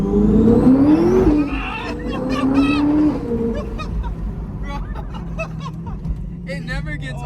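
Modified C8 Corvette with a ProCharger supercharger accelerating along a straight, its loud engine note climbing in pitch, then easing off into a quieter drone while people talk and laugh over it.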